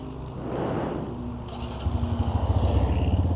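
A 2015 Honda CG Fan 150 motorcycle fitted with a Fortuna Mini Trioval F1 exhaust idles near the microphone, then settles into a rapid, loud, throbbing exhaust pulse.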